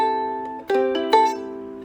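Ukulele strummed incorrectly, an uneven ringing chord with two brief, scratchy strums that sound thin and unbalanced, close and clear with no voices.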